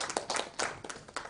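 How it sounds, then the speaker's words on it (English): A small audience at an annual research conference claps briefly after a presentation, with soft, scattered handclaps heard fairly faint and close. "Please a hand of applause for him"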